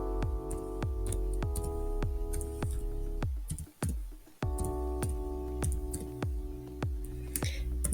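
A spreadsheet formula being typed on a computer keyboard: a steady run of quick, close key clicks, briefly broken near the middle, with a constant tonal hum underneath.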